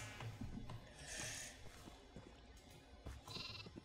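Minecraft sheep bleat on a farm in a couple of short, nasal bursts, separated by soft thumps and low background game noise.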